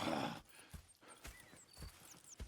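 Horses in the video game Red Dead Redemption 2: a brief snort or breath, then a few soft hoof clip-clops spaced irregularly, faint and fairly close with light ambient texture.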